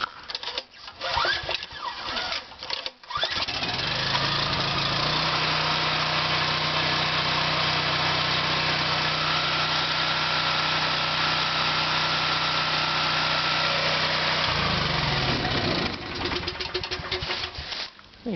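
A golf cart's small engine starts cold with the choke on and settles into a steady, loud idle lasting about twelve seconds before cutting off, with handling noises and clatter before and after.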